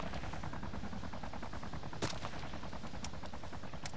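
Rapid bursts of automatic gunfire in a military video game crackle continuously with a few sharper single shots, steady and dense, with no voices.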